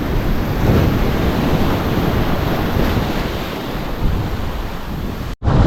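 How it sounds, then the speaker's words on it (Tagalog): Continuous rushing roar of ocean waves breaking onto the shore at low tide, loud and close, with wind buffeting the microphone throughout. "Basagan ng alon."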